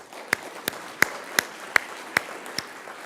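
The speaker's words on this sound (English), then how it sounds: "Can we just applaud?" A congregation at a church annual meeting claps, heard as seven sharp, evenly spaced claps roughly every half second, fairly close and distinct against a quiet room rather than a dense wash of applause.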